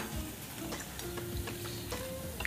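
Dahi vada fritters fry gently in oil over a low flame, producing a faint, steady bubbling sizzle dotted with small ticking pops and no talk.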